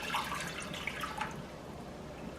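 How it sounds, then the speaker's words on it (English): Water poured into a cooking pan for ginger scallion fish, a steady trickling and splashing stream running close and continuous for a couple of seconds with no talking. "you want to add 5 cups of water to your pan."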